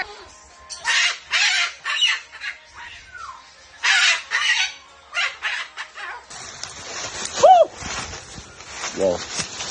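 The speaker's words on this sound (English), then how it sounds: "It's a bird." A bird calls in short, sharp bursts and a few rising squawks, close and fairly loud, amid other animal noises and voices.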